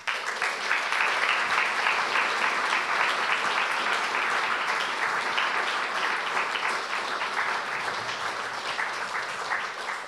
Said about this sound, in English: I think we can give her one great applause.